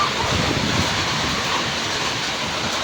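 Rain and wind storm sweeping in, a dense, steady roaring wash of gusting wind and rain, loud and close throughout, with no clear voices over it.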